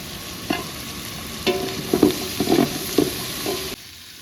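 Big onions fry in a pan alongside small onions as a stirring utensil scrapes through them, a low steady sizzle broken by a handful of short clinks and scrapes, close and with no voices.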